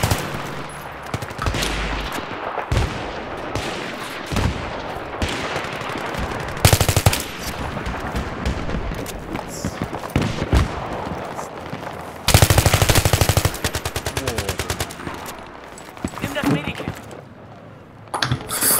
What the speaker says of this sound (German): wie viele Leute hier auf die Fallschirmspringer schießen, die auf den Turm wollen?